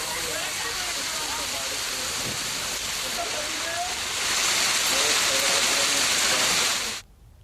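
Unseasonal rain falls in Satna and Singrauli, a steady, dense hiss of heavy downpour that thickens slightly midway and then cuts off abruptly near the end.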